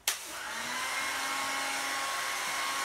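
Hair dryer being used to apply SolarGard Titanium window tint film on an Audi 80: a click as it switches on, then a steady close whooshing blow of air that holds evenly throughout, with no talking.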